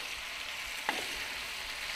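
Chorizo sausage sizzles quietly in a pan, a steady, soft frying hiss with one brief click partway through and no voices.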